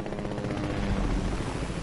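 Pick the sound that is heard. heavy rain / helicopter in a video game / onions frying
helicopter in a video game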